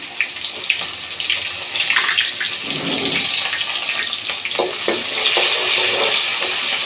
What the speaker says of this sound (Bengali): আমার তেল গরম হয়ে গেছে পেঁয়াজটা দিয়ে দিলাম